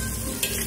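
Frying noodles for mie gomak sizzle steadily in a pan as seasoning is stirred in, a close, continuous crackle with a brief scrape partway through.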